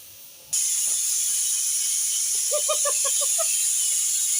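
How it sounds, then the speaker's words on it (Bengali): A pressure cooker, cooking cabbage with goat fat, suddenly lets off its whistle. The release is a loud, sustained steam hiss that starts sharply and keeps going, with a faint rattling chatter briefly underneath. "আমার দুটো সিটি মারা হয়ে গিয়েছে কুকারের।"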